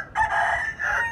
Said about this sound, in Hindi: ये देखिए हमारा असील मुर्गा बैठा हुआ,